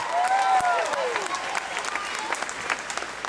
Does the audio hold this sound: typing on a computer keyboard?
no